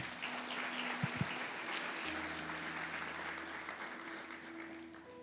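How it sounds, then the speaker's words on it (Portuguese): Worshippers in a church service applaud together in a continuous, even patter that stays steady for several seconds, with a faint low tonal hum underneath and no talking. "Aplauda o Senhor Jesus."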